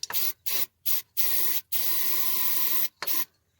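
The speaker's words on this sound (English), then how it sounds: "shoot some starting fluid in the carb" Starting fluid is sprayed into the side-mounted carburetor of a 1950 Mercury flathead V8 in several close, hissing bursts: three short ones, then two long sprays and a final short one, with no talk.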